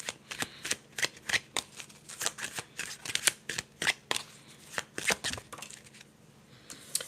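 Tarot cards are shuffled rapidly and repeatedly up close, producing crisp riffling bursts in a steady rhythm.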